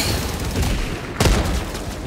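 Sentry turret in Helldivers 2 unloading rapid sustained automatic fire amid battle noise, loud and dense with a heavier boom-like burst midway.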